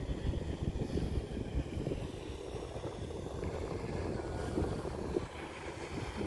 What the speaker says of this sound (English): There's the speedboat.